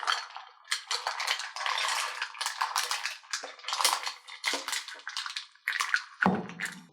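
Live mussels are dropped one after another onto fish in a pot of Provençal fish stew, making a quick run of hard shell clatters and clinks, close and busy with no talking.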